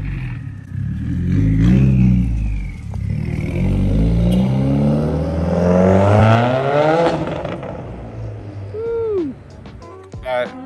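Engine and intake noise from a 2021 Subaru WRX with a turbo, heard from inside while driving, a loud sustained rising and falling rev with rattly turbo flutter near the end.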